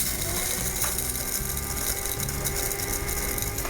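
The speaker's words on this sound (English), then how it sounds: "I'm going to start grinding it first because it's kind of a little harder" Coffee grinder grinding whole black peppercorns, a harsh, steady mechanical rattle and grind that runs close and continuous without pause, no voices.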